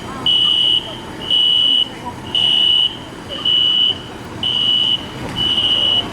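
A building's fire alarm sounds in six long, loud, regular blasts of a high piercing buzzer tone, each lasting about half a second with short gaps between, against a low background murmur.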